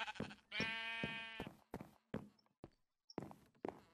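Sheep in the video game Agrarian Skies 2 bleat loudly and close, one long wavering bleat followed by shorter bleats mixed with soft footstep-like thumps.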